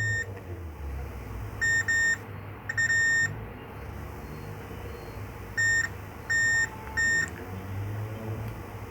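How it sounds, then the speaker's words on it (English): A multimeter on continuity setting emits repeated short electronic beeps while probing coils on a Lenovo E480 laptop motherboard with a no-power fault, several clear tones in uneven pairs and triplets over a low background hum. "as you can see there is a beep sound."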